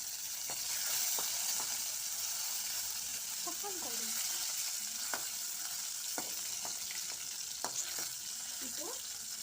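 Dried red chillies sizzle steadily in hot oil for tomato chutney. The continuous frying hiss runs throughout, with occasional stirring clinks and brief background sounds.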